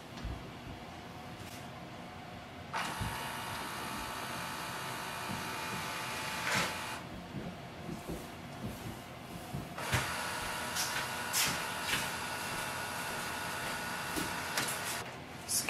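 A Canon Pixma G4570 printer scans a page fed through its ADF tray, producing two long, steady mechanical runs of whirring motor and feed noise with brief clicks between them, moderately loud, with no talking.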